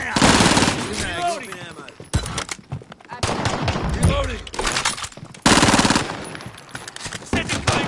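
Call of Duty gunfire, loud rapid automatic bursts and single shots in several waves, with shouted voices mixed in among the shooting.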